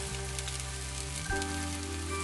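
Kimchi pancake frying in hot oil gives a steady, close crackling sizzle that runs on without pause, like rain pattering on a surface, with no voices over it.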